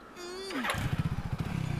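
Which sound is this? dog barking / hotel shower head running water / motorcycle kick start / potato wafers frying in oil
motorcycle kick start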